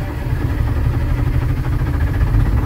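A 1972 Detroit Diesel 6V53 two-stroke diesel engine runs after a cold start, a loud, close, steady low rumble with a rapid, even pulsing throb.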